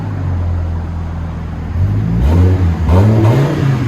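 A Viper truck's engine, fitted with a quieter exhaust, idles with a low steady rumble, then revs up in a couple of swelling blips, loud and close with no talk.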